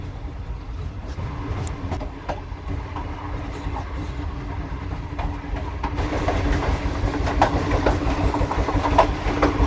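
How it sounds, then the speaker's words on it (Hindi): A safari train rolls along rails through the Thar Desert, a steady loud rumble with clickety-clack wheel beats that grows slightly heavier as the train picks up speed. "फाइनली आप देख सकते हैं ट्रेन ने स्पीड जो है वो पकड़ ली है।"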